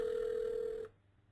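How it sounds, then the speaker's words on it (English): A phone rings for an incoming SIP call, giving one steady electronic tone that holds for most of a second and then cuts off, leaving faint room noise. "now the phone is actually ringing"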